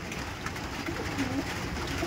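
Golden eye pigeons coo softly in a loft, low murmuring calls over a steady background hiss, with faint voices talking nearby.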